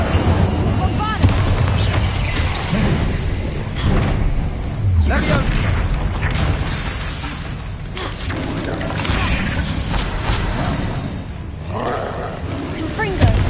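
Spell blasts from the Bombarda explosion charm in Hogwarts Legacy, heavy booming bursts piled over dense continuous battle noise and rumble, with shouted voices mixed in throughout.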